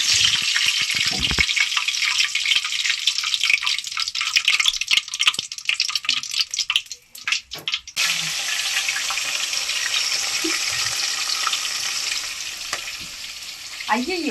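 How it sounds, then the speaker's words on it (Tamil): Mustard seeds sizzling in hot oil for chicken curry, a loud continuous hiss with scattered crackles and pops, a brief dip in the middle and then steady frying again, close up. "எண்ணெய் சூடாயிடுச்சு. கடுகு போட்டோம்."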